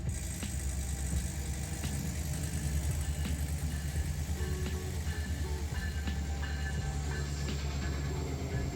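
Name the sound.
passing train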